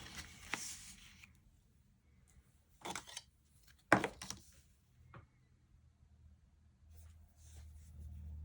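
Paper being cut out for a planner with scissors, heard as a few sparse, close snips and rustles separated by quiet gaps, with faint handling sounds.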